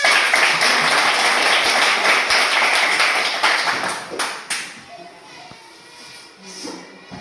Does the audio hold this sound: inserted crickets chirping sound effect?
no